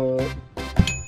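A bell rung three times in the cooking game PlateUp!, bright metallic dings spaced across about a second and ringing out with sustained tones.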